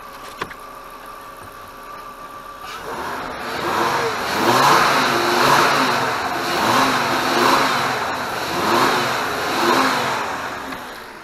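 After a quiet start with a faint tone, a MK5 Jetta engine with an Injen cold air intake and vacuum pump delete revs repeatedly in rhythmic surges, a throaty mid-pitched roar rising and falling several times.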